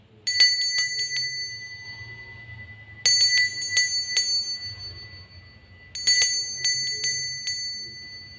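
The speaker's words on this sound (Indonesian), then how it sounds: "kita akan melanjutkan dengan ditandai lonceng berbunyi" A small bell rings in three quick bursts of rapid dings, evenly spaced, bright and close over a quiet background.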